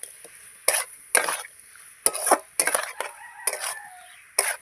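A sweet-sour mango pickle mixture is stirred with a utensil, producing a series of short, irregular scraping and clicking strokes spaced across a few seconds against a quiet background.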